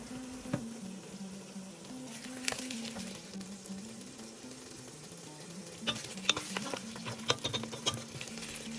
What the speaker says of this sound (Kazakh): Етті бір 15 минуттай қуырамыз.